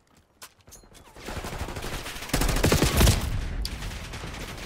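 Rapid bursts of XM4 rifle fire in Call of Duty: Black Ops 6 crackle over a dense battle mix, growing louder midway, with a sharp peak around three seconds before settling into continuous shooting.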